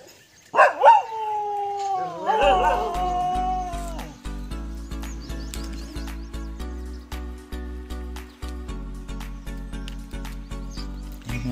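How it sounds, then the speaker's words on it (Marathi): Small puppies howl and whine in a village before sunrise, with a few high wavering cries near the start. Rhythmic music with a steady beat soon plays over them and carries on after. "कुत्र्यांचे लहान लहान पिल्लू."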